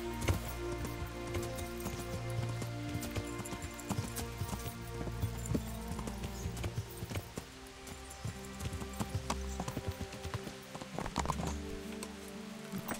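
Horse hooves clop in a steady, continuous rhythm in the Kingdom Come: Deliverance medieval video game, moderately close and without talk.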